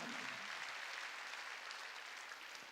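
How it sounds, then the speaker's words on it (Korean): A church congregation claps together during a sermon, a soft, steady patter of many hands that carries on evenly throughout, heard at a distance. "박수."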